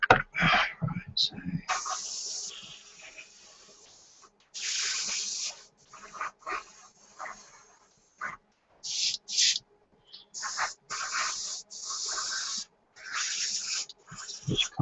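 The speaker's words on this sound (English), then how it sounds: "Now the airbrush, the compressor's going to start kick on soon." Airbrush spraying paint on a 1/72 scale SU-34 model kit, short bursts of sharp airy hiss coming on and off close by, with a compressor faintly humming underneath and occasional speech.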